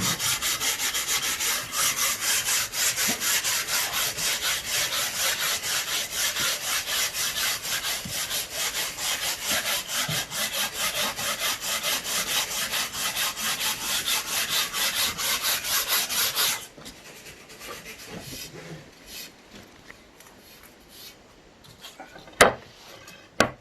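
Steady, vigorous back-and-forth rasping of abrasive on wood, continuous and close, then it stops and a few quieter scrapes and knocks follow.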